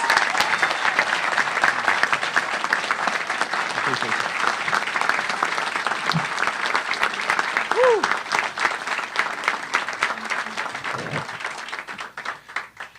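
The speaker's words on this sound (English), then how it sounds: "Give our police commissioner a round of applause." A large audience applauds a newly appointed Philadelphia police commissioner at a mayoral event, giving dense, sustained clapping that stays loud for most of the span before thinning out near the end. A few whoops and voices mix in.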